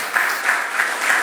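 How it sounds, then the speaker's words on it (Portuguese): Church congregation clapping steadily during a worship service, a dense continuous patter of many hands with faint rhythmic pulses, brief and fairly loud, with no voices over it. "E eu quero que você aplaude ao Senhor."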